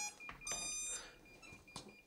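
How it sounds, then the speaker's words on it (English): Short electronic beeps from the ESC of an AtomRC Swordfish RC plane, a few close, shrill tones with bright harmonics, heard near and fairly quiet against a faint background hiss. "Okay, we have some beeps"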